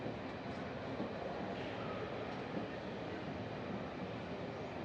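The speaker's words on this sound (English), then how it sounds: "Back at the train station" Low continuous rumble of a train at a railway station in 1989 East Germany, a steady broadband roar with no distinct horn or announcements, held evenly at moderate distance.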